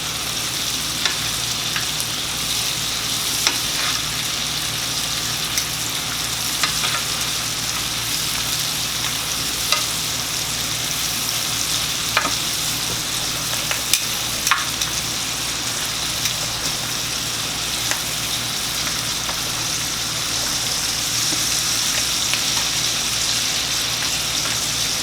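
Rib eye steaks sauté in a hot pan, giving a steady dense sizzle with scattered crackling pops that runs unbroken and close throughout, with no voices over it.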